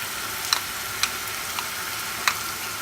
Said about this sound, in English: Keep stirring for a few more minutes.